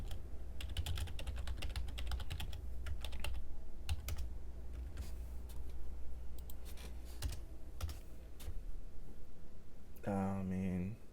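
Rapid clicking on a computer keyboard runs in uneven bursts under ongoing talk during a podcast, with a short whooshing sound effect near the end.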